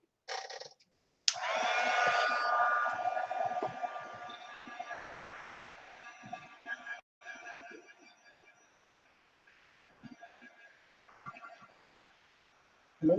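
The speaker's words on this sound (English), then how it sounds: "And now we're gonna heat dry this." A heat tool blows steadily while drying a mixed media artwork, a loud broad whoosh that starts after a short sound, holds for several seconds, then fades into lower intermittent noise and handling sounds before cutting back in at the end.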